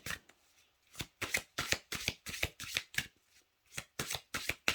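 A deck of oracle cards shuffled by hand, close and quiet, in a run of quick riffling bursts separated by short pauses.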